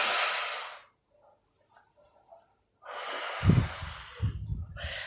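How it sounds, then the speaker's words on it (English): A big deep breath in a calming exercise for children: a loud breathy rush at the start, a pause, then another long breath with a faint voice under it. "We're going to take a big breath."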